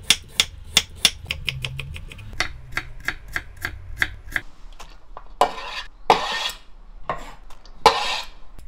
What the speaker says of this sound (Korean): 당근도 잘게 썰어